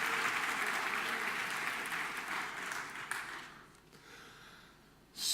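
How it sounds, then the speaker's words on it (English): A conference audience at a tech talk gives a round of applause, steady and broad for about four seconds before thinning out and fading, with a brief burst at the very end. "Please, one round of applause for the technology"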